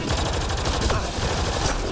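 Rapid bursts of gunfire crackle through a firefight in Mass Effect: Andromeda, shots overlapping in a dense steady barrage with game music underneath.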